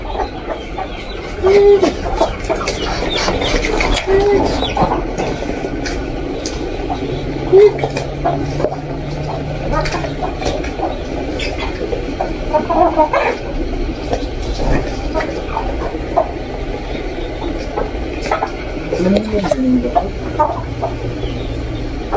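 Chickens, including Rhode Island Reds, cluck intermittently in the background while people talk nearby, over a steady low rumble of outdoor noise on a farm.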